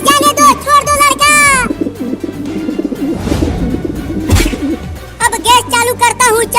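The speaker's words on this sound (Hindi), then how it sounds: "अरे कबूतर की आवाज आ रही है इस भगोने के अंदर से।" Cartoon pigeon cooing from under a cooking pot, repeated warbling coos in short bursts, close and loud, mixed with animated character voices chattering in between.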